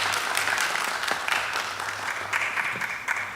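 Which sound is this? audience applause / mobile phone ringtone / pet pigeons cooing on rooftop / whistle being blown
audience applause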